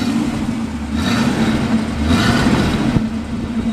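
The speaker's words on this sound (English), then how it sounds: "but we'll let you listen to the exhaust." A 1964.5 Ford Mustang convertible with a rebuilt 289 engine and no big headers idles at the exhaust, a close, even, fairly mellow rumble with slight swells in level.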